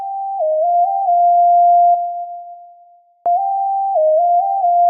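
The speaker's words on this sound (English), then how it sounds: "for this lead, I used a simple sine in Purity again" A simple sine-wave synth lead from the Purity plugin plays a pure, steady tone that steps between a few nearby pitches, fades out, then restarts after a short click, alone and clean.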